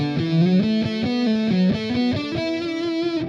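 A distorted electric guitar plays a lick, loud and close, with quick picked notes and hammer-ons moving through a short fast melodic phrase.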